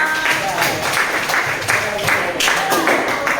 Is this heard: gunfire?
no